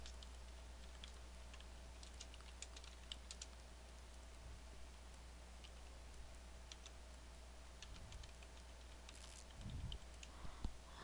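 Light keystrokes tap on a computer keyboard while a Microsoft Word document is typed, in quick irregular bursts separated by short pauses, with a low steady hum underneath.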